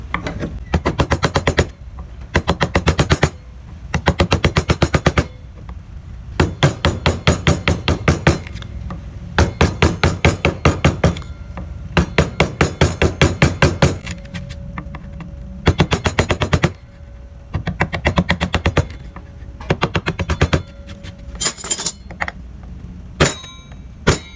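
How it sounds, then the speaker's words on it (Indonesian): A large gouge chisel is struck over and over while carving a barong motif in wood, sharp rapid knocks in dense rattling runs broken by brief pauses, loud and close with no voices. "Jadi kita menggunakan pahat kol yang agak besar."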